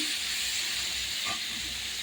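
Jackfruit curry with potatoes frying in plenty of oil with tempering spices gives a steady, close sizzling hiss that lasts the whole moment, with no voices.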